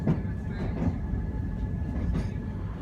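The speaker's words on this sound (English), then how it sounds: "Our train is just pulling into the station." Edinburgh service train drawing into a station, a steady low rumble of the rolling carriages with faint rhythmic clatter throughout, heard from on or near the platform.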